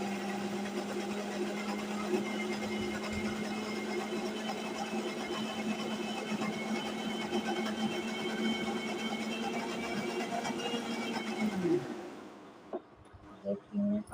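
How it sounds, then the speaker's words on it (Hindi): A kitchen mixer grinder runs steadily at close range, grinding food with a constant whirring drone that cuts off near the end, followed by a few faint clatters. "इस तरीके से मैं इसको ग्राइंड करके तब दूँगी विवेक जी को"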